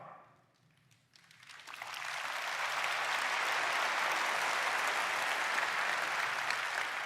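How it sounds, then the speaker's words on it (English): After a brief quiet moment, a large tech conference audience breaks into applause that swells within a second and holds as broad, even clapping from a big crowd at a distance. "Only this conference do they clap for RAS."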